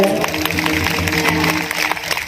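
An audience clapping during a comedic kirtan performance, a dense, steady patter of many hands close by that continues through the whole stretch with no break.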